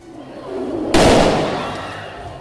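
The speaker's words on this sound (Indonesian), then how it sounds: "petugas sirkus seringkali menembakkan senjata pistol" A single sharp pistol shot fired at a circus cracks out of a low rumble, followed by a short decaying echo.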